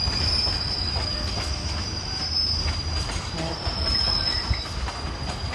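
A train rolls through Crewe station on a goods line, a steady loud rumble of wheels on rails with a high sustained squeal running through the whole passage.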